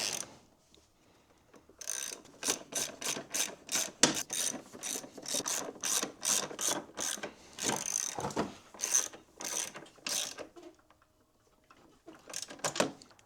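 A ratchet tightens the A-arm bolts on a 2013 Polaris RMK 800 Pro snowmobile, with repeated quick clicking strokes coming in bursts separated by short pauses and no one talking.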